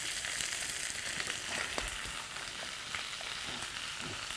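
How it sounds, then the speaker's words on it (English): Saffron cream sauce bubbles in a pan over the heat, giving a steady, soft sizzle and faint popping close by with no voices. "Oh, it's boiling"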